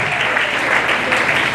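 A church congregation at a special thanksgiving service applauds steadily, dense continuous clapping filling the room throughout the short stretch, with faint voices mixed underneath.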